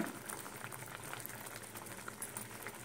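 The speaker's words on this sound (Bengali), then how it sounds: "টকবগিয়ে ফুটছে" An amla mixture for hajmi goli, a tangy sweet digestive candy, boils vigorously in a pot, giving a dense, continuous bubbling and popping patter heard up close and fairly quiet, with no talking.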